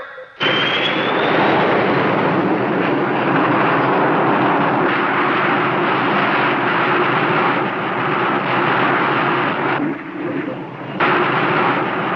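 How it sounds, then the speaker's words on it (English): Hunter-type missile launch from a 1958 film: a loud, continuous roaring rush that starts abruptly with a rising whine and sustains for about twelve seconds, dipping briefly near the end before surging again. "Counterattack by Hunter-type missile. 2, 1, 0."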